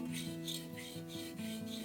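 A curved plane blade scrapes back and forth on the coarse side of a diamond sharpening stone, about 325 grit. Quiet, close rasping strokes repeat roughly every quarter second, steady and rhythmic, with no voices.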